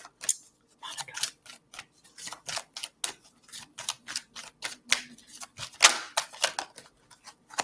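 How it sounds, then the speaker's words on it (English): Playing cards being shuffled by hand, a series of quiet crisp riffles and snaps in an irregular rhythm, close and alone without talk. "we're going to stop shuffling because the cards are telling me now's the time to stop"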